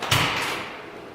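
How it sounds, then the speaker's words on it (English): A 1956 Chevrolet pickup truck's door opens with a single close, sharp mechanical clunk that fades into a brief hiss of background noise, with no voices. "We're going to go ahead and walk around here and open that door up."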